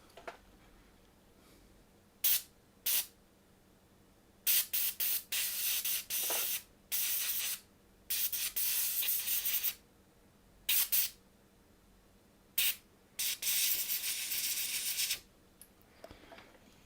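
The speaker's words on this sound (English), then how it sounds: "And then we get the compressed air." A can of compressed air sprays in a series of short and longer hissing bursts, about a dozen in all, with brief quiet gaps between them, close by during a Nintendo Switch USB-C port repair.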